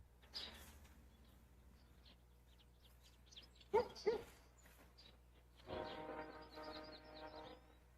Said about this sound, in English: We can hear the train going by